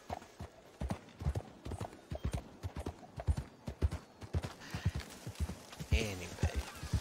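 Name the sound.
horse galloping hooves in the video game Red Dead Redemption 2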